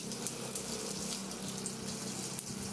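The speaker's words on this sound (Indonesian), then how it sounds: "Nyalakan kran. Tunggu sampai airnya mengalir keluar dengan lancar." Water gushing steadily from an opened tap during setup of a Bosch EasyAquatak 110 pressure washer, a continuous close hiss-like rush with no pauses or speech.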